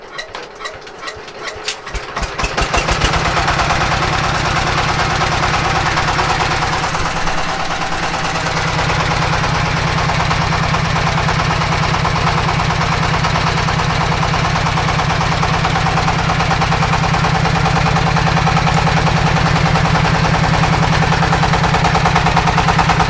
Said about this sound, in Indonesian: Kita melihat dulu bagaimana Ustadz Hilal untuk menghidupkan mesin genset di pondok pesantren ini.